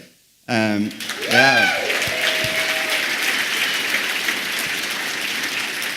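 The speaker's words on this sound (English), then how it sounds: "She deserves a round of applause" A voice rises, then sustained applause from a crowd fills the rest, steady and fairly loud, with scattered cheers at the start.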